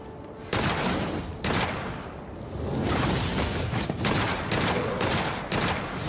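Enemy gunfire in the video game Witchfire comes in repeated bursts, with loud, sharp volleys and booms crowding one another and no pause between them.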